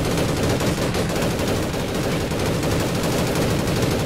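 Sustained automatic gunfire in the video game APB Reloaded during an alleyway shootout, a dense, loud, continuous rattle of rapid shots with no pauses.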